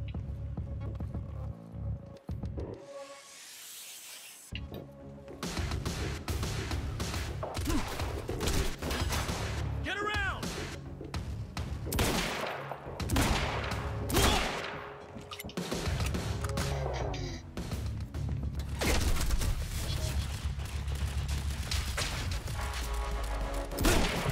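Turret gunfire in the shooter game Quantum Break: long bursts of rapid automatic shots hammer away loudly with a brief lull early on, then keep pounding almost without pause, mixed with booming impacts.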